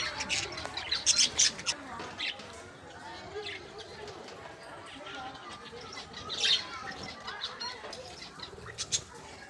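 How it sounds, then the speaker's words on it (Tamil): Lovebirds at a pet park squawk and chirp in sharp, scattered bursts at moderate distance while people talk nearby. "லவ் பேர்ட்ஸ், இதான் லவ் பேர்ட்ஸ்"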